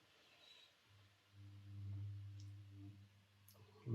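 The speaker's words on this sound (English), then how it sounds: "It's just making a humming sound." A Wrenn Railways W Class 4MT model locomotive, stalled and not moving, gives a steady low electric motor hum that swells in the middle and carries on alone at close range.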